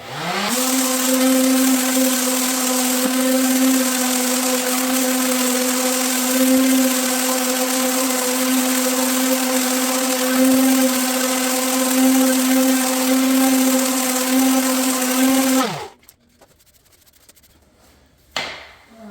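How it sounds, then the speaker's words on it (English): A palm sander runs continuously on a bedroom floor for about fifteen seconds, a loud steady buzzing whine with a faint rasp, then cuts off abruptly, leaving near silence and a small knock. "just a palm sander, and it seems to be doing a pretty good job."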